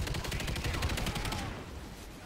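Rapid bursts of gunfire in a video game crackle in a fast, repeated rhythm, then fade into a quieter background rumble toward the end.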